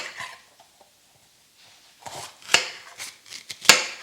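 A knife cutting an orange bell pepper on a board, a few sharp crisp slices after a quiet start, close and fairly loud, irregular in rhythm with no talking.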